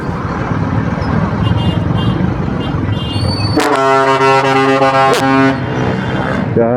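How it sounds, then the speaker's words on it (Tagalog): Engine and road noise build, then a loud, sustained horn blares from a large vehicle nearby, cut by a second sharp blast before fading. "Grabe, ingay. Lakas ng busina."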